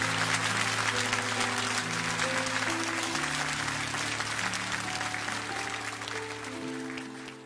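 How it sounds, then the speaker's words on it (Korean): A church congregation claps together in steady, dense applause that fades slightly toward the end, with low sustained instrumental tones holding underneath. "우리 박수로 축복하시겠습니다"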